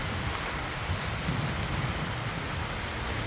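A summer thunderstorm's rain pours steadily outdoors by a lake, a dense, loud hiss with a low rumble underneath and no voices.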